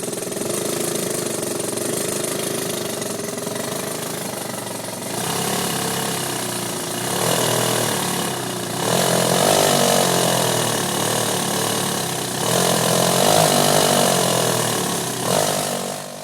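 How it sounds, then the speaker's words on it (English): A steam-injected engine, with water rapidly injected into the baseline airflow, runs as a steady mid-pitched roar that swells and climbs in stages toward high speed, loud and continuous throughout. "Note how quickly the engine spools up to high speed with the rapid injection of water into the"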